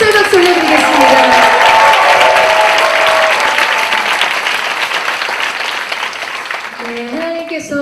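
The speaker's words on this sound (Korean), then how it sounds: "다시 한번 하나님 앞에 감사의 박수 올려드리겠습니다." A large congregation at a Korean church worship service applauds and cheers loudly, a dense roar of clapping with voices rising above it, easing slightly toward the end as a sustained tone enters.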